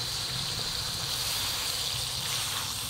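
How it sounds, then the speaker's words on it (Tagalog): Water poured into a hot pan of chicken adobo frying in its own oil, a loud continuous gushing sizzle that holds steady close up with no voices. "lagyan ko na konting tubig kasi nagmamantik-mantika na siya"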